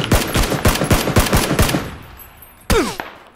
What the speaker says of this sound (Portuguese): tá atirando em mim, que merda